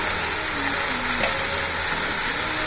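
Spice masala of turmeric, red chilli powder and cumin frying in a pan for bhindi masala, a steady close hiss of sizzling with faint scraping as it is stirred, continuous throughout.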